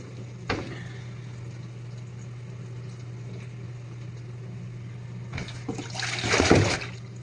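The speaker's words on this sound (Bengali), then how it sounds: "এখন এটা দিয়ে দিব একটু ধুয়ে কারণ যে কষ্ট আছে কষ্ট চলে যাবে ধোয়ার পরে" Cut papaya being rinsed in water in a home kitchen, a quiet steady hum underneath with a soft knock early on and a burst of splashing and running water toward the end.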